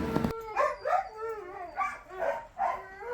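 Sled dogs in Skagway, Alaska, bark, yelp and howl in excited, overlapping bursts after a sharp opening thump, close and loud throughout with no talking.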